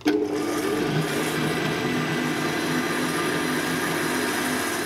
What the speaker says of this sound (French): Là on va mixer l'ensemble pour qu'il y ait un mélange bien homogène,